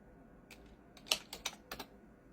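Short bursts of typing on a computer keyboard, a few quiet separate key clicks and small clusters of taps, close and alone, as a search is entered.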